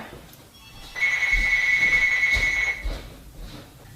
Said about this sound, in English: My phone ring.